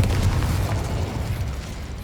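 A Confringo spell explosion in Hogwarts Legacy: a dense, loud low-end boom that rolls on for about two seconds with rumbling debris and no voices over it.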